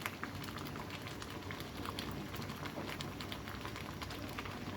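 A pot of lentil soup (dal) bubbles at a steady boil, with continuous soft popping and hissing close by and no voices.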